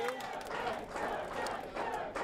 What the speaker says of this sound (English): You hear them there cheering on.